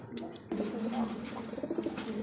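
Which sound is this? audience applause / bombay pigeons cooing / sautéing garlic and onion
bombay pigeons cooing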